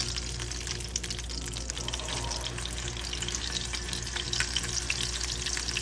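Beef burger patties fry in a pan with a steady, close crackling sizzle that stays even throughout, no voices over it.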